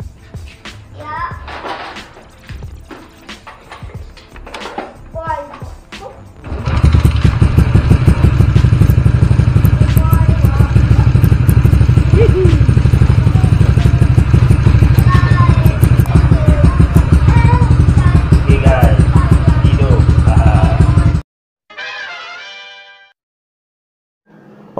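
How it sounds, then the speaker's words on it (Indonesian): A Yamaha LC 135 motorcycle engine starts after some clattering handling sounds, then idles loud and steady for around fifteen seconds before abruptly cutting off, with a brief sound afterward. "sekarang kita test hidupkan"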